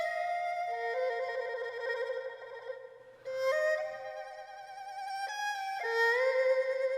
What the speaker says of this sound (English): the arcade bank we're using is Passports